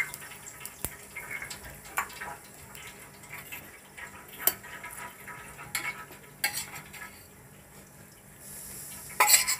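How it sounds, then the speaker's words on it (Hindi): Cumin seeds and asafoetida frying in hot oil while sweet tamarind chutney is made, a soft steady sizzle with scattered clinks and scrapes of a spoon stirring in the pan, heard close and alone without talk. "ये हमने तेल में जीरा डाला है"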